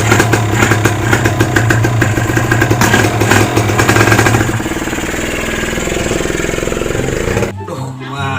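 A motorcycle engine runs close by with a loud, rough, pulsing idle that smooths into a steadier drone partway through before cutting off near the end, with people talking over it.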